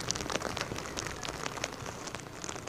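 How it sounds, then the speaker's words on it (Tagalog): Gusty rain and wind during a typhoon in Kasiguran, Aurora, a faint, steady hiss of rain pattering on surfaces with no voices. "malakas na hangin na sinasabayan ng pabugso-bugsong pag-ulan ang nararanasan natin dito sa Kasiguran sa Aurora"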